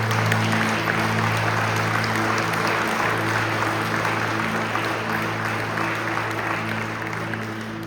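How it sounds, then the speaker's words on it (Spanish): A church congregation at a Spanish-language service claps together for about eight seconds, dense and sustained, with a faint hum of sound equipment beneath and the clapping easing slightly toward the end. "Puedes darle un aplauso al Señor."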